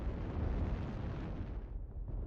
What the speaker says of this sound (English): there's an airstrike here on Yin Yang